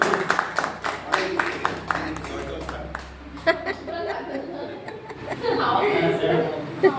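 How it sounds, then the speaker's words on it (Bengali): An audience claps for a guest in a crowd: a short burst of quick, close handclaps and some laughter, mixed with someone talking, then fading into murmurs and chatter. "কষ্ট করে এসছেন, কিন্তু ম্যাডামের জন্য একটা হাততালি হয়ে যাবে।"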